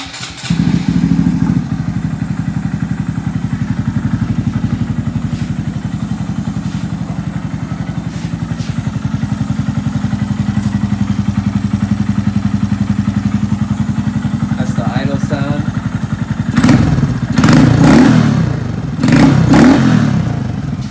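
A 2017 Honda Grom motorcycle engine runs at a loud, close, steady idle. Near the end it breaks into several sharp revs.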